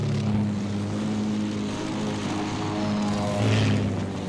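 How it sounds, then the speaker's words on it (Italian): An enemy propeller fighter plane in the video game Battlefield 1 drones steadily overhead, its engine hum holding level and swelling louder near the end, with no talk over it. "Questo è un aereo nemico."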